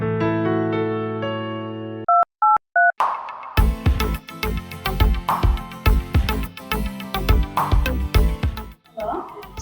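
Someone dials a telephone number in a village setting, a few sharp, evenly spaced keypad beeps after a sustained tone, followed by loud rhythmic music with percussion.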